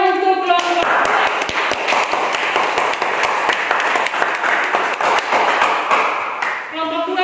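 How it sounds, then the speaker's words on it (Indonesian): A classroom of students claps for a presenting group, sharp distinct hand claps that swell into dense, loud applause lasting several seconds before fading, with a voice speaking at the start and again at the end. "Tepuk tangan untuk kelompok 2."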